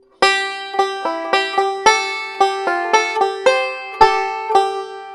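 Plucked banjo notes in C position ring out one after another in a steady, moderate rhythm, bright and close, each note sharply attacked then decaying, with no voices.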